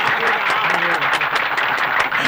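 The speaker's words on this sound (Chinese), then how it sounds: "来，大家给他鼓鼓掌，" A crowd applauding in a dense, steady wash of clapping with no break, close and fairly loud, with a little talk blended underneath.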